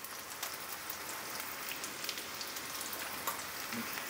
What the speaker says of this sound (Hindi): आलू प्याज को हम 4 से 5 मिनट बिल्कुल लो फ्लेम में ढक के फ्राई करेंगे